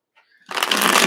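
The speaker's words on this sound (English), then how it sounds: "Last shuffle, please" Tarot cards are shuffled in one quick, close, papery riffle that rushes in after a faint brief rustle and then runs steadily to the end.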